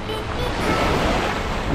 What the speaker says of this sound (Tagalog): Ang lalaki ng alon mga kabayan.